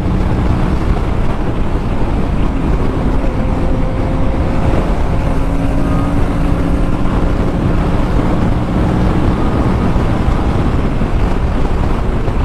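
A new motorbike on its first ride along the road toward Dharmasthala gives a steady engine drone with heavy wind rush, continuous and close throughout, with no talking.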